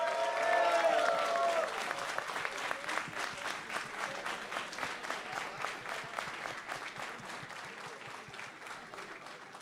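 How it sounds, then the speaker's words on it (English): Audience applause and clapping at the Brazilian Dynasty esports LAN finals, loud and dense at first, then gradually thinning into steady sustained clapping across the hall, with a brief tonal sound over the opening seconds. "Keep clapping, please,"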